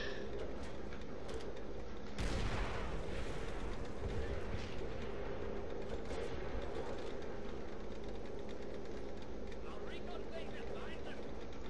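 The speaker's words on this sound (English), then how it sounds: "Tank battle" Tank battle in World at War, with a heavy cannon blast and rumbling explosions over a dense, constant roar of armored combat, under raised excited voices.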